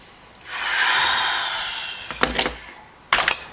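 A person takes a long, close breath in through the nose while smelling old flea market tools from a bucket, followed by a few quick clattering knocks.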